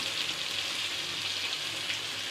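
Tomato and spice pastes of turmeric, cumin, coriander, ginger and garam masala fry steadily in oil in a pan for a vegetarian dish, giving a continuous close hiss and sizzle with no talk.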